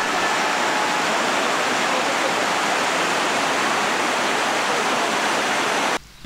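Steady broadband rush of the Oslava river flowing near an old mill and ford, a loud, continuous wash of water with no voices, cutting off abruptly at the very end.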